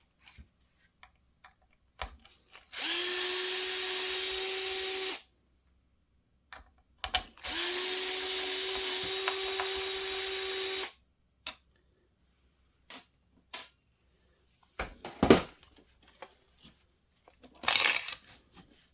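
Power driver unscrewing screws from a two-piece drive shaft on a dual-motor RLAARLO AK 787 RC car: two sustained whirring bursts of a couple of seconds each, close up, followed by light clicks and handling of small parts, no talking.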